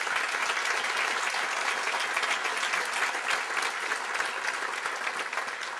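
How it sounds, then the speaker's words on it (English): A large audience at a university brunch gives sustained, even applause throughout, many hands blending into a thick continuous roar heard without any voices on top. "please do, and give everybody a round of applause."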